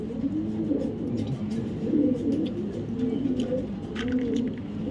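A female Dobas racer pigeon coos in a steady run of low, rolling calls, close and clear over a faint background hum.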